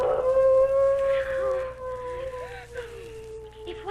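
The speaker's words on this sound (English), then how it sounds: "If what made those footprints is doing that howling, then it must be a wolf" A wolf gives a long, sustained howl that holds a wavering tone and slowly bends downward, fairly close and clear, with quieter howls overlapping.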